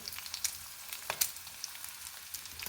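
Mustard seeds, crushed garlic and dry chillies fry in hot oil for a wild mango pappu, a steady close sizzle dotted with sharp crackles and pops.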